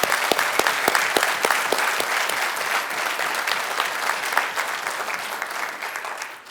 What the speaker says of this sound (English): let's just give the women of our nation, veterans, a round of applause because of their service